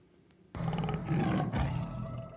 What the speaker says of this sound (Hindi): इसी शोर के बीच एक दहाड़ की आवाज